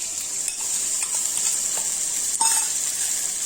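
Dried red chili and cumin paste frying in a hot pan for a bamboo shoot and pork dish: a steady, close sizzling hiss with a few soft scrapes and clicks of stirring, no voices.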